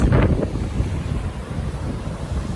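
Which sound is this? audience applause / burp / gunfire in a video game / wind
wind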